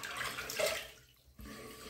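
Tap water running at a bathroom sink while a face is wetted for shaving with a safety razor, a steady splashing flow that briefly dips and then resumes.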